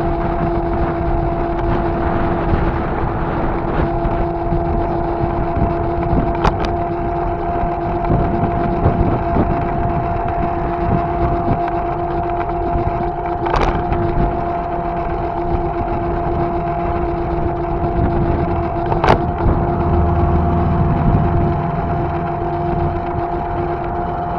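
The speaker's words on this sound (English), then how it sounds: "I have to wait for the gusts of wind to die down before I can talk again." Steady low rumble of wind buffeting a microphone, broad and constant throughout with a faint mechanical hum underneath, no voices.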